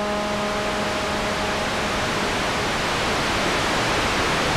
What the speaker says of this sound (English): we can add white noise